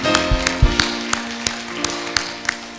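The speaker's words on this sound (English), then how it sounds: "Give the Lord a great big hand clap for these that have come." A church congregation claps hands together in a brief burst of scattered, fairly close claps and taps with no clear shared rhythm.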